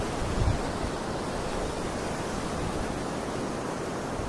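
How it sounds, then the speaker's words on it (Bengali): Rainwater rushes along after heavy rain in Oman, a steady, loud, broadband wash of flowing water with no voices. "যে দিক দিয়ে পানি যাইতেছে এই দিকেই যাইতে হয় কাজের জায়গায়"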